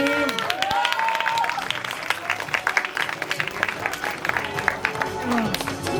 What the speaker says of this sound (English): Can you please have a huge round of applause for the winning team?